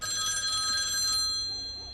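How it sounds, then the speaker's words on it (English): An electric bell rings steadily for about a second with a bright, sustained metallic tone, then trails off into quiet room ambience. "Well, there's the bell."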